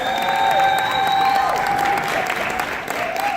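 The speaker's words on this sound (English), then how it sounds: "Give another round of applause for the Vietnamese" An audience at a university Asian culture night fashion show applauds Vietnamese models, a steady wash of clapping with some cheering over tonal music in a hall.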